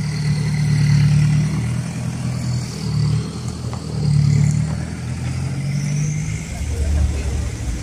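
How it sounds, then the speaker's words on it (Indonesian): Cars and other vehicles rumble and rev as they drive onto the ship KM Swarna Bahtera at Pare-Pare, with engine noise swelling and easing over several seconds while voices murmur in the background. "Ini adalah mobil-mobil yang akan naik ke atas kapal."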